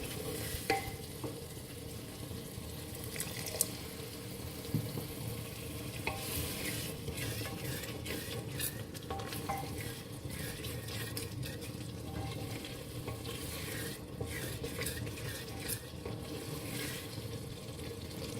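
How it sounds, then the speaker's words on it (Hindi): Steady frying sizzle with frequent scraping stirs as masala roasts in a pan over medium heat, continuous and close, with a faint watery hiss underneath; no voices. "मसाले को अच्छा सा भून लेंगे।"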